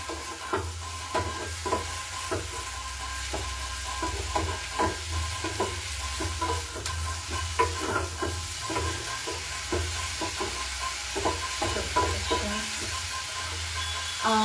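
Mushrooms sizzle steadily in a hot pan, with frequent scraping and tapping of a spatula stirring them, close and continuous.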